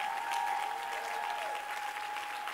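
Worshippers at a church fasting and prayer gathering applaud for Jesus, a continuous wash of many hands clapping at moderate distance, even and unbroken throughout, with a faint held tone beneath.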